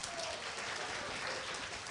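A crowd of schoolchildren at a school Raksha Bandhan event claps loudly and continuously, a thick, even wash of applause lasting the whole moment.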